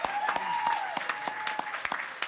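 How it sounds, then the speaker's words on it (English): An audience claps steadily for a short stretch of brisk, uneven applause, with a voice carrying faintly over it. "I think we should give another round of applause to Fangoria and all the guys here"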